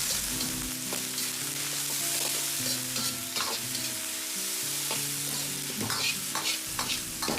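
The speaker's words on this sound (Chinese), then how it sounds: "翻炒几下" Bitter gourd stir-fried in a wok after garlic, ginger and scallion, a loud continuous sizzle with rhythmic spatula scrapes and tossing strokes throughout, close up with no voices.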